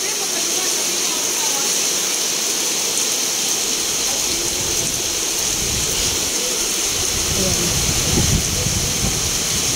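Steady heavy rain falls during a storm as a dense, continuous hiss with low rumbling wash underneath, constant throughout with no talk.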